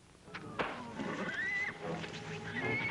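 Horses whinny and neigh in shrill, rising cries over a busy, noisy background, with a sharp thump early on.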